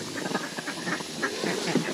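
Mallard ducks in a homestead pen in South Carolina give a scattered run of soft, close quacks and murmurs over a steady low background.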